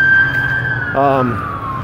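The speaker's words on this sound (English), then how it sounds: "as you just heard, an ambulance went by" An ambulance siren wails steadily, its tone gliding slowly downward as it passes, with a brief burst of voices or horn-like harmonics partway through.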